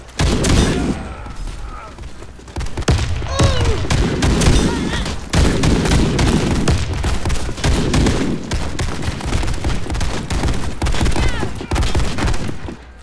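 Rapid bursts from a USAS-12 automatic shotgun in Warface on an oil depot map: dense, repeated blasts in quick succession over several seconds, loud and close, with someone talking over some of the shooting.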